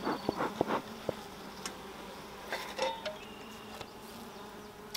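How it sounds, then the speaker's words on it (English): A low honey bee buzz hums faintly and steadily around a hive feeder, with a few sharp knocks and clicks near the start and scattered soft taps. "You can see there's bees on the feeder here on the bottom of it."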